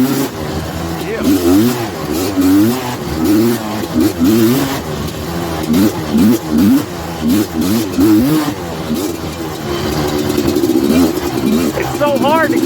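A cold Suzuki LT250R ATV engine cranks, sputters and revs in uneven bursts, then catches and settles into a loud, rising engine note close by, with someone talking over it.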